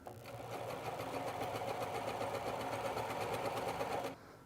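A sewing machine stitches folded fabric in a steady, rapid mechanical run for about four seconds before stopping abruptly, close and moderately loud with no talking over it.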